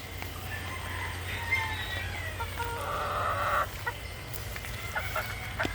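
Chicks and chickens clucking and peeping nearby, soft chirps and clucks over a low steady background hum, with a brief faint voice.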